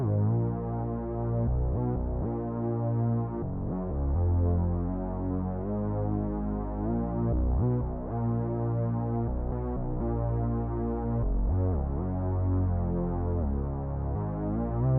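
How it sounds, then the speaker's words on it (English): Serum lead synth heard dry without any effects, a buzzy, harmonically rich tone playing a continuous melodic line of sustained notes with short gaps, loud and alone throughout. "this lead synth that you hear throughout the entire song"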